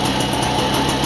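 An old moped's small engine running just after starting, a loud, steady high-pitched buzzing hum that stays constant and close with no talk over it.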